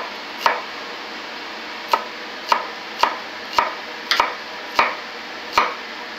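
A knife slices through an onion on a cutting board in seven crisp, separate chops spaced roughly evenly, each a sharp close tap against the board, with no talk.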